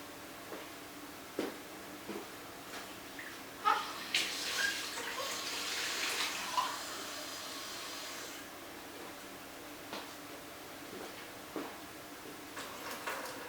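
Tap water runs briefly into a coffee mug in a quiet kitchen while sourdough dough is being mixed; the faint, hissing flow is surrounded by scattered clicks and knocks.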